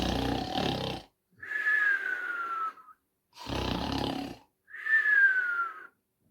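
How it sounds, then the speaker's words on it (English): Two slow, deep snores are heard during a Three Bears storytelling for young children. Each snore has a rough, rumbling breath in, followed by a whistling, wheezy breath out, all close and alone with pauses between them. "It was then when they heard the snoring from upstairs."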